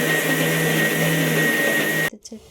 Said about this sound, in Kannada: ಸ್ವಲ್ಪ ಕೊತ್ತಂಬರಿ ಸೊಪ್ಪು, ಒಂದು 2 ಎಸ್ಲು ಬೆಳ್ಳುಳ್ಳಿ ಮತ್ತು ಒಂದಿಷ್ಟು ಹುಣಸೆಹಣ್ಣು ಹಾಕ್ಕೊಂಡು ಮತ್ತು ರುಚಿಗೆ ತಕ್ಕಷ್ಟು ಉಪ್ಪು ಹಾಕ್ಕೊಂಡು ನೀರು ಹಾಕ್ಕೊಂಡು ಮಿಕ್ಸಿಗೆ ಹಾಕ್ಕೊಂಡೆ.